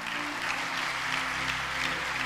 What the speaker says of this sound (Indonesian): Tepuk tangannya kayak kurang semangat.